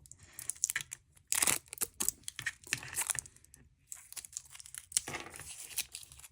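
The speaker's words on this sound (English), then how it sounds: "So let's completely unwrap it." Plastic packaging for an aftermarket titanium G-Shock GW-5000 armor kit is torn and crinkled open, close bursts of rustling and ripping in uneven spurts with brief pauses.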